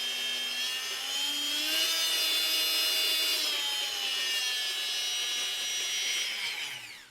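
A Bosch PMF 350 CES oscillating multitool running unloaded as its power is turned up: a loud, steady high-pitched whine and buzz that rises in pitch, holds, then drops away as the tool winds down, with no talk.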